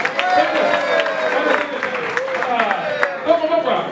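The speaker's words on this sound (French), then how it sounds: "applaudissez-vous Daniel." Children at a French-language church teaching session clap together in a scattered, continuous patter, moderately loud, while people talk over it.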